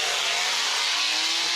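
A Ford Mustang GT500 with an aftermarket wing revs hard at a Dodge Roadkill Nights drag racing event, a loud, continuous, close engine roar sustained for under two seconds with no talk over it.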